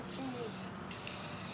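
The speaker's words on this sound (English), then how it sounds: "See how you're dripping? That's because you're spraying too much on in one spot." Spray paint hisses from an aerosol can onto a filter in a steady close blast lasting about a second and a half, broken by a brief pause partway through.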